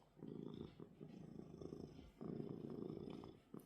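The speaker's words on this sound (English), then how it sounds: "Listen to those purrs." A large bearded cat purrs close by, two long rumbling purr cycles with a brief pause between breaths, soft and steady with no talking.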